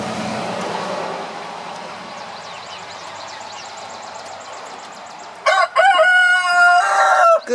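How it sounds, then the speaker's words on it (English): A rooster at a backyard chicken coop crows once near and loud after a long stretch of quieter outdoor ambience with faint distant crowing and traffic, the close call rising and holding before trailing off. "You can hear that rooster"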